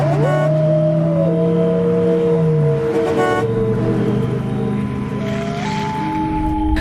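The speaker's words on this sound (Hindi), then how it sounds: "रोहित गाड़ी को गांव की तरफ ले लेता है।" A car drives along with its horn honking in long sustained blasts that shift pitch, loud and close over a steady road rumble, with a final horn tone near the end.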